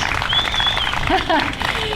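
At a Peace Day gathering, an audience applauds the master of ceremonies, a short burst of clapping under a voice that carries on over it.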